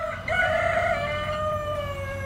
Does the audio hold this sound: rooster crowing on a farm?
yes